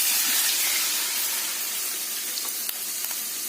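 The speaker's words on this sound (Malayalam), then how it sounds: "2 ഗ്ലാസ് വെള്ളം ഒഴിച്ച് തിളപ്പിക്കുന്നു" Two glasses of water poured into a hot pan of onions with salt and turmeric, giving a steady, close sizzling hiss that slowly settles, with no voices.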